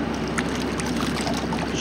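Boat pounding through waves on open water, a steady broad wash of splashing and wind rush close to the microphone with no distinct separate impacts.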